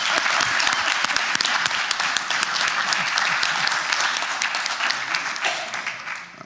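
An audience at a city commission meeting applauds a student athletic team steadily, dense clapping with scattered cheers throughout, fairly loud and continuous.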